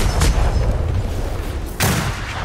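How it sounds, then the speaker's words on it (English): Ship cannons firing during a naval engagement in the pirate video game Atlas, with a loud broadband boom near the start and a second heavy blast about two thirds through, over continuous low rumble. "Fire the cannons."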